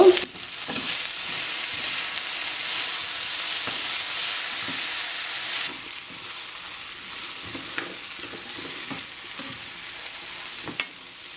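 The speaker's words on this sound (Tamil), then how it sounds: "இப்போ இதை நல்லா மிக்ஸ் பண்ணி விடுங்க" Black chana sundal with thin coconut slices being stirred in a pan, a soft steady sizzle with scattered light scrapes of a spoon, fairly faint and without voices.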